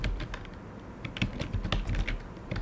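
Rapid keystrokes on a computer keyboard while entering a 3D avatar name in Unreal Engine, an irregular run of close, clicky taps with no voice.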